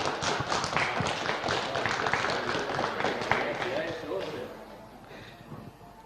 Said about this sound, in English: Big round of applause, please, for Will Richardson.